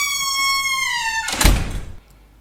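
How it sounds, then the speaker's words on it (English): A door closing sound effect timed to an on-screen door animation: a rising synthetic whoosh swells into one loud thunk near the middle, then fades out quickly. "as the door closes, the peak of the sound effect is timed up really perfect with that"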